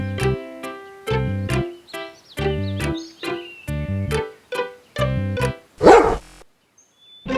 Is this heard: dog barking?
yes